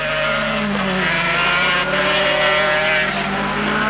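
Racing motorcycles of about 120 horsepower scream past at speed through the shopping streets of the Wanganui street circuit, a loud, steady, dense engine roar that holds for several seconds with no voices.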